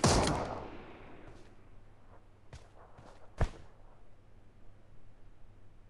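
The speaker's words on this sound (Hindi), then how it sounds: "एक पिस्तौल से ही फायर कर दिया।" Pistol shots in the BGMI battle-royale game: a loud shot at the start, then two sharper, more distant cracks a few seconds apart over a quiet background.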